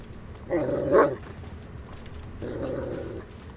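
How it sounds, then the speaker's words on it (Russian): A small dog in the stealth game Thief barks in two short bursts, a sharper yap near the start and a duller, steadier one later, each moderately loud against a quiet ambient background with no talk. "Собачонок."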